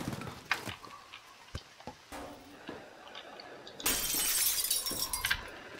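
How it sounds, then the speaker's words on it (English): A glass wall shatters in the destruction game Teardown, with scattered cracks and clinks, then a bright, sustained crash of breaking glass fragments that lingers for a couple of seconds, close and fairly loud. "Damn, the whole wall broke down."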